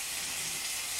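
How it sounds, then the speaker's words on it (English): Sausage sizzles in a frying pan, a steady, dense hiss that stays level and close throughout the brief moment. "frying some sausage."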